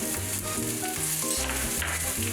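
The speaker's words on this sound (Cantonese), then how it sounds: "喺鍋中加少少油，開中火加熱，落薑、蒜末、" Ginger and minced garlic frying in a little oil over medium heat, a steady close sizzle with light stirring, under background music.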